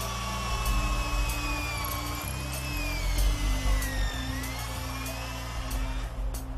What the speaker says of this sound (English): 20 feet up to where he'll drill in an anchor.